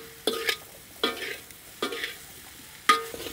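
Raw banana pieces are stirred in a pan with chili powder, salt, coriander powder and garam masala, giving four separate scraping strokes at an unhurried pace, close and fairly soft, with no voices.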